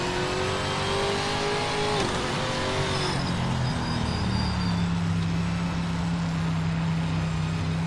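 A car engine in an online racing game revs hard and close, its pitch sliding down then settling into a steady drone, loud throughout with no voices.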